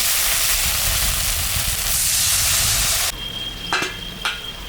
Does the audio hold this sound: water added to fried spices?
yes